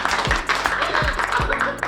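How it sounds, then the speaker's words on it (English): A family clapping at an anniversary celebration, a short burst of several hands applauding nearby with uneven, overlapping claps and some talk mixed in. "See, everyone is clapping for you guys."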